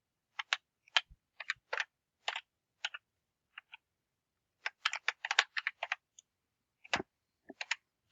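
Computer keyboard typing a command: light, irregular clicking keystrokes in short clusters with pauses, close and quiet.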